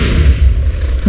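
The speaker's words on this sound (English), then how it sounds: "Oh no! I set off my other cannon!" A Minecraft cannon goes off as a brief, loud, low rumbling explosion that roars steadily for about a second and ends with a small extra thump.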